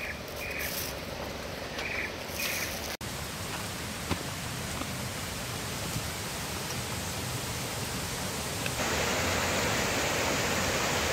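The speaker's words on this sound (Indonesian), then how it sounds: "Sungai Siler sebagai sumber air penggerak kincir air" Siler river water pours steadily over a water wheel, a dense, even rushing wash that holds constant and alone, swelling slightly louder toward the end.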